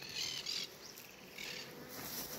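Honey bees from a small nucleus colony hover at the hive entrance. Faint, intermittent buzzing comes in soft bursts over a quiet outdoor background.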